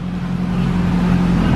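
A Honda S2000 engine running loud and close, a steady low droning rev held without pause, with no voices over it.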